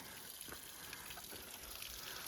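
Mountain spring water from a trail water source on the Appalachian Trail, running in a faint, steady trickle and gush, quiet and continuous with no one talking.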